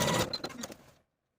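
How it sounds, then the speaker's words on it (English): A sewing machine stitches back and forth over the overlapped ends of an elastic band, a short, close mechanical whirr with a few quick chattering pulses that slow and stop within a second. "overlap the 2 edges of your elastic and sew back and forth to secure"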